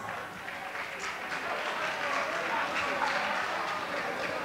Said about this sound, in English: give another round of applause for Eclipse